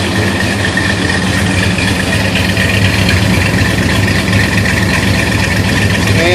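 A 1968 Plymouth Road Runner V8 idles loudly and steadily up close after fresh ignition wires, a rough, rumbling continuous drone with an even low pulse throughout.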